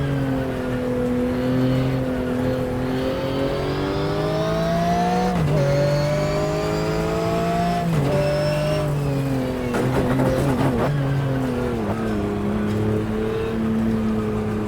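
A race car engine in the GTR2 racing game drones steadily at high revs, then drops through several downshifts with blipped rev-matching throttle spikes, the pitch stepping down and rising again, loud and close throughout.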